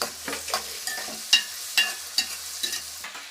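Onions frying in a pan for Andhra pandugappa fish curry, a bright sizzle broken by regular spatula scrapes and taps against the metal, close and fairly loud with no voices.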